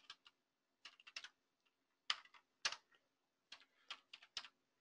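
Keystrokes on a computer keyboard as a terminal command is typed, in short bursts of clicks with brief pauses between words, close and fairly quiet, no talking.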